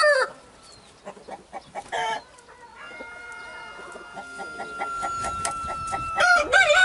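Roosters crow in a rural yard: a long, drawn-out cock-a-doodle-doo rings out at moderate distance, with a second, louder crow rising at the end. Some brief clucking and rustling come in between.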